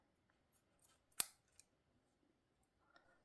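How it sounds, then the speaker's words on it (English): Scissors snip through a crochet yarn tail in one sharp, clear cut, with a few faint clicks and rustles of the yarn and blades around it, in an otherwise quiet room. "now cut your tail off"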